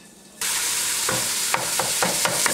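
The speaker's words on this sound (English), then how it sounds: "I got my ground beef, and it's going into my olive oil. I'm going to saute the H out of this beef." Ground beef drops into hot olive oil and bursts into a loud, dense sizzle that holds steady, with a few light spatula taps as it sautes for a spinach stew. It is close and there is no talking.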